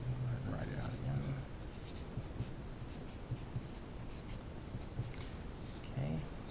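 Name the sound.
writing on a board while solving equations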